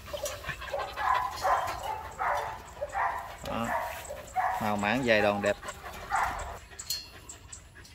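A five-month-old Belgian Malinois puppy gives short yips and a drawn-out whimper, close by, in the middle of a stretch of steady talking from a man.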